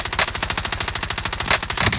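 Rapid automatic gunfire in a first-person shooter video game, a loud, steady stream of closely spaced shots continuing for about two seconds without pause.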